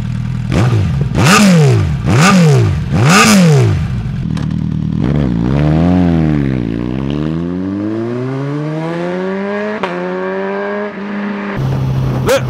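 A Suzuki GSX-S1000GT sport touring motorcycle engine revs hard several times, then pulls away with rising, sustained acceleration through the gears, loud and close.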